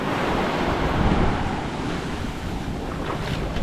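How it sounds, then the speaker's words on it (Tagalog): Big storm waves crash and churn around a service boat at sea during a typhoon, a loud continuous roar of surf mixed with heavy wind buffeting the microphone, no voices. "Pero laki ng alon no?"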